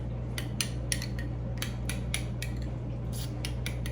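A sauce for taco egg rolls is stirred briskly in a bowl, with a utensil clinking and scraping in quick irregular bursts over a low steady hum.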